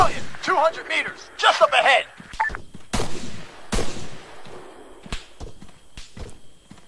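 Gunfire crackles in the military video game Arma, with several sharp single shots and short bursts at varied distances, mixed with excited talk from players.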